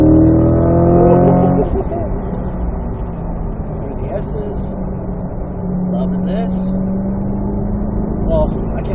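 A 2024 Corvette E-Ray with all-wheel drive powers out of a tight corner on a race track, the engine note loud and rising at first, then settling into a lower steady drone with someone talking over it.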